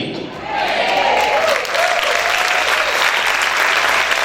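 Congregation applauding in a church service, a dense, steady wash of many hands clapping that swells after a brief dip and continues loud and close throughout.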